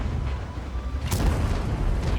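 A tank cannon fires in World of Tanks from the WZ-132-1, a single heavy boom with a sharp crack that rolls into a low rumble over a continuous engine drone.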